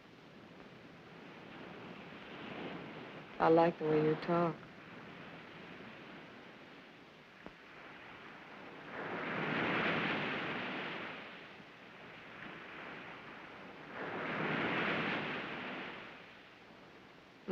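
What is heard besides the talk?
ocean waves in a 1945 film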